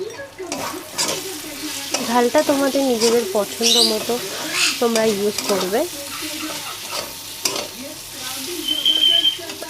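Pointed gourd frying in a pan and stirred with chili powder sizzles steadily with scraping strokes, under a voice talking throughout.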